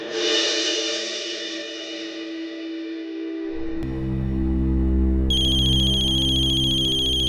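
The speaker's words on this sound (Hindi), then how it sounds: "तेरे आशिक का फोन है।" In a TV crime drama, a bright chime fades out, then a phone ringtone starts playing, a repeating electronic melody that grows fuller as high tones join in.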